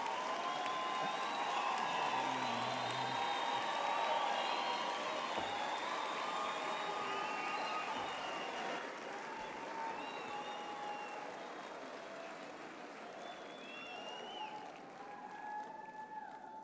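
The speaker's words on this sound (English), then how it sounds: "let's give our graduates one more big hand of applause for their hard work and perseverance" Sustained applause from a crowd for graduates at a Faculty of Education graduation ceremony, steady dense clapping that fades slightly toward the end, with faint background voices.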